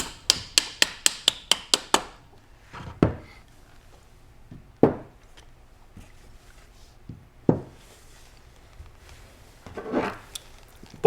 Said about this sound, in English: which I like to use a rawhide or a nylon hammer to tap back into place